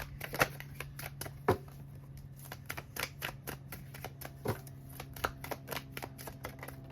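Tarot cards drawn and shuffled from a deck, a run of soft, quick papery flicks and taps close up, fairly quiet, with no voice over them.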